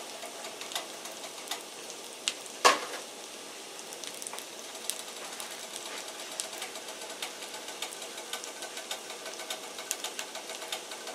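Tofu frying in a pan until browned gives a faint, steady crackle of oil with small irregular pops and one sharper knock early on, heard alone without talk.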